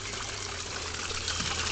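A garden pond's water trickles and gushes in a steady, close, fairly loud wash, with no pauses and no voices over it.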